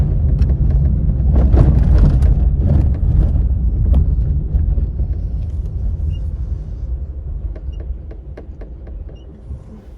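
A 2004 Vauxhall Corsa C with a recently replaced timing chain drives along, giving a steady low engine and road rumble that stays loud and close, easing off gradually toward the end.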